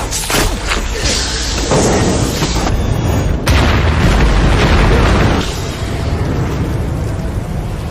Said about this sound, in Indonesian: yang malah menyebabkan perahu tersebut terbakar, meledak, dan juga menewaskan ular gedeng tersebut